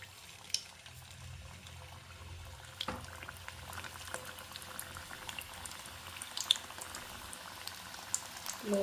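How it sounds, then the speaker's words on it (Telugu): Nellore-style malai khaja sweets fry in oil over a low flame, giving a soft, steady bubbling with faint scattered crackles and occasional light pops throughout. "లో ఫ్లేమ్లోనే ఫ్రై చేయండి."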